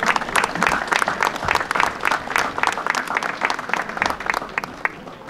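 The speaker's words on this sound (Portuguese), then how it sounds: "Uma salva de palmas também para a Irmandade." An audience at the Doze Ribeiras festival gives a round of applause for the Irmandade do Divino Espírito Santo, with rhythmic, closely spaced clapping that is lively and sustained and sounds fairly near.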